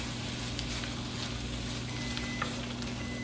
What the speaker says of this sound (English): I got my peppers and onions in the pan